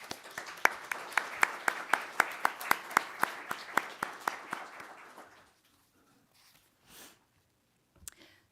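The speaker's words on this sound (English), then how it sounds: "Let's show our love for our retiring board members with a round of applause for all their dedicated work" A small congregation at a spring meeting claps for retiring board members, a few sharp rhythmic claps standing out over softer ones for about five seconds, then dying away to near quiet with a couple of faint sounds.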